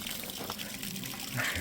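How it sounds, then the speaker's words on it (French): Water gushing from an outdoor tap by a cemetery along the banks of the Marne, a short continuous splashing flow that rises slightly at the end. "on a trouvé un robinet d'eau"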